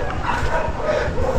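Household dog named Jasper giving soft, close yips and whimpering barks in quick succession against a rough outdoor background, with no speech during it.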